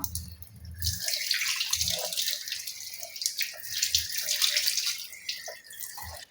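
Water from a tap splashing and running continuously while soap lather is rinsed off a face at a sink, close and steady with a few heavier splashes.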